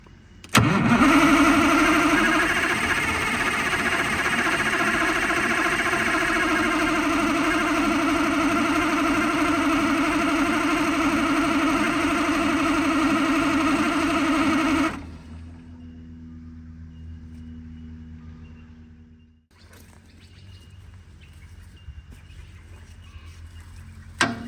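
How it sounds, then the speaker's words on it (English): A Cummins V8 diesel in a Ford truck fires and runs with a loud, steady, rough drone for about fifteen seconds before cutting back to a quieter idle-like hum, then a faint rumble; close, no talking. "Just trying up the throttle a bit with my hand here."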